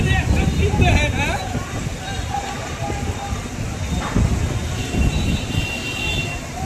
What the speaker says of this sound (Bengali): দেখুন কি বৃষ্টি হচ্ছে, আমি জানি না ক্যামেরাতে কতটুকু দেখা যাচ্ছে, তবে দেখেন কি পরিমাণ বৃষ্টি হচ্ছে।